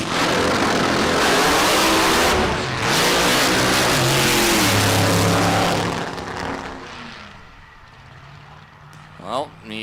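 A drag racing car launches hard down the strip at a big-money event, its loud engine roaring continuously for several seconds before fading into the distance, with crowd noise and a voice faintly underneath.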